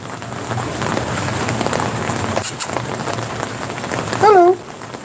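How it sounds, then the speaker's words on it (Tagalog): Steady rain falls throughout during a typhoon, a continuous broadband patter with a brief louder burst near the end and a short tonal chirp over it. "umuulan."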